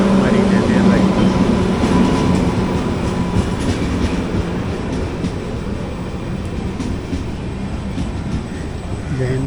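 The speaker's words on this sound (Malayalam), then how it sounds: "ജയന്തി ജനത ജസ്റ്റ് ഇറങ്ങിപ്പോയി." The Pune–Kanyakumari Jayanti Janata Express pulls away from Kollam Junction with a loud, steady rolling rumble and wheel clatter that eases slightly over time; a voice is faintly present beneath it.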